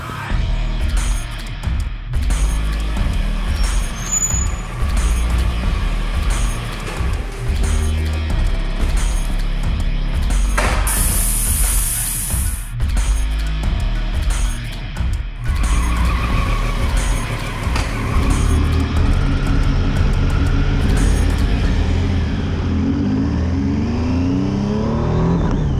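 Triumph Street Triple 765 RS motorcycle ridden hard, engine revving and accelerating loudly with gear changes and tire skids throughout, continuous and close.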